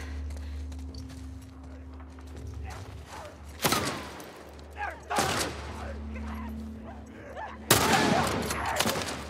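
Gunfire in the video game The Last of Us Part 1, with three loud, sharp shots at spaced intervals over a low game ambience, the last one followed by a burst of noisy reverberation.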